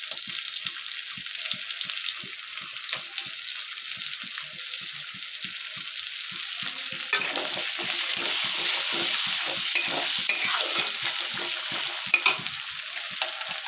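Tomato sizzles hard in fish oil with eggplant, with steady crackling spatter and a regular beat of stirring strokes all the way through.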